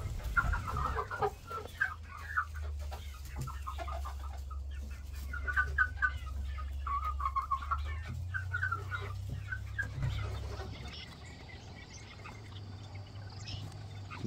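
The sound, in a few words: chickens clucking while entering the coop in the evening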